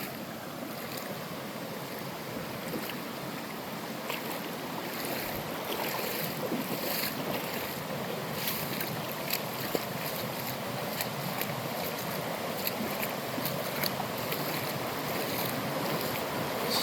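Avens Creek runs brown and swollen after a recent flood, its muddy water giving a steady, broad rushing wash with no pauses, mixed with light wind buffeting the microphone.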